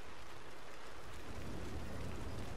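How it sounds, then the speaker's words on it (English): Rain in Red Dead Redemption 2, a steady wash of falling rain hissing across the whole range, continuous and moderately quiet with no talk over it. "Wait for the rain to stop."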